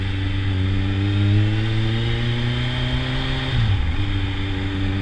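A Kawasaki Z1000 motorcycle engine runs loud and close, a steady high idle with strong droning harmonics, then dips briefly near the end as the revs drop and climb back.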